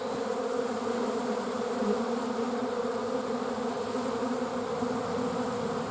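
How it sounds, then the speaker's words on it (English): Many honeybees buzz around a hive being robbed by another colony, a dense, steady, loud drone of countless wings close by, continuous and without voices. "Not sure what's going on with the bees here."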